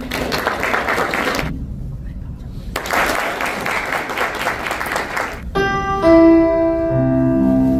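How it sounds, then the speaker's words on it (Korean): A church congregation at an early-morning service of a church general assembly applauds to welcome pastors, with broadband clapping in two dense bursts separated by a brief pause, followed by organ or keyboard music. "박수로 맞이하겠습니다."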